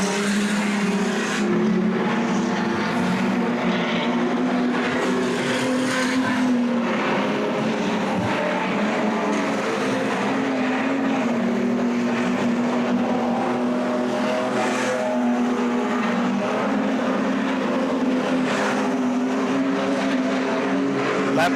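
Street stock race cars lap an oval track during an official state title practice session, their engines roaring loudly and continuously with layered, droning motors and no clear gaps.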